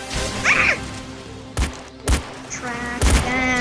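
Several sharp gunshots in the Roblox Murder Mystery game, three or four distinct cracks spaced about half a second to a second apart over a light background tone.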